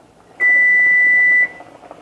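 A kitchen timer for cooking noodles gives one loud, steady electronic beep lasting about a second against a quiet room.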